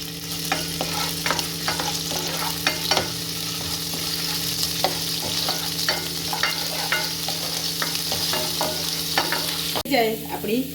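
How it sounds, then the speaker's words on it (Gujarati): Garlic and chili paste sizzling loudly in about two spoons of hot oil in a pan for pasta: a steady, close frying hiss broken by the scrape of a stirring utensil, with a louder clatter near the end. "પછી તેલ ગરમ થાય એટલે લસણ મરચાંની જે પેસ્ટ બનાવી છે આપણે તે એડ કરી દઈશું, એને સાથે થવા દઈશું"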